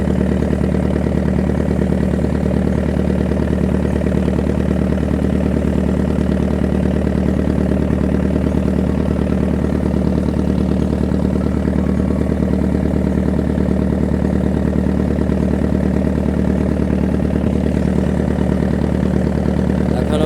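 Wooden racing boats run their engines flat out in a two-boat river race, making a loud, unbroken droning hum that holds steady for the whole stretch, with no voices.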